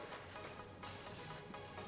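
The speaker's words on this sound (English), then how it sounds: "So I'm just gonna spray it on here." Hair shine spray misted onto styled hair in a salon, a short hissing burst followed by a longer steady spray, close and fairly loud with no talking.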